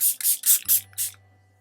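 Several quick hissing bursts of Catrice Prime and Fine Dewy Glow Fixing Mist, a makeup setting spray with light glitter, spritzed close up in a rapid run of about five pumps, with a low hum underneath.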